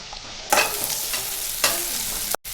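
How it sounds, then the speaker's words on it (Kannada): Onions dropped into hot oil for mutton sambar burst into a loud, bright sizzle that swells, then surges again halfway through with a stir before cutting off abruptly. "ಎಣ್ಣೆ ಹಾಕ್ತೀನಿ, ಈರುಳ್ಳಿ ಹಾಕ್ತೀನಿ. ಈರುಳ್ಳಿ ಚೆಂದ ಬಾಡಬೇಕು."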